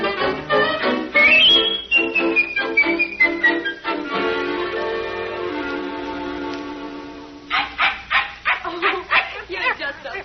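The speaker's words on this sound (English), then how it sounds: "Listen to her carry on over that Pekingese" A small Pekingese dog in a 1947 studio radio drama yips and barks in quick bursts, with whimpering and whistle-like whines, loud and close amid the scene's dialogue.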